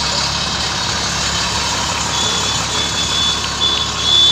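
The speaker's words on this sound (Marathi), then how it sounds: "ही आळंदी नगरपालिकेची अग्निशामक दलाची गाडी आहे" The Alandi municipal fire engine idles loudly during a flood, a steady heavy engine drone with a faint, thin repeating reversing beep over it.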